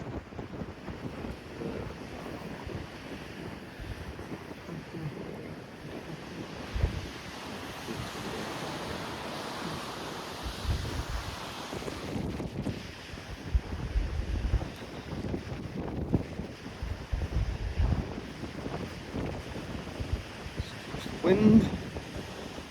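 Wind gusting steadily across a Cornish cove at Dollar and Church Cove, a broad continuous roar with surf blended in, rising in louder gusts near the middle and end, with no speech.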